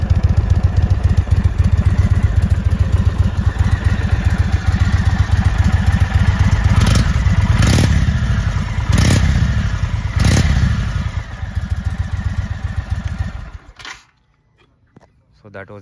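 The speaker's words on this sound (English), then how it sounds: "Let's hear the exhaust note now." Indian Chief Dark Horse 2023 motorcycle engine running loud and close, a steady deep exhaust rumble with a few sharp revs near the middle, then cut off abruptly near the end.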